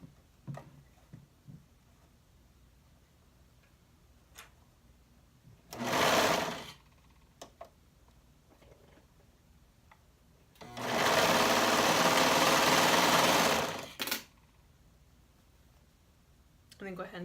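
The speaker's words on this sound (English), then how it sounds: "then we'll stitch that up with a 1/4 inch seam allowance" Sewing machine stitching a 1/4 inch seam allowance on a rolled fabric sleeve bodice: a short burst of steady motor whir, then a longer, louder run of rapid stitching, with quiet handling noises between.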